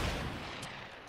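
Sniper gunfire in the video game Fortnite comes as a loud, dense burst of gunshot noise that fills the short moment with no talking.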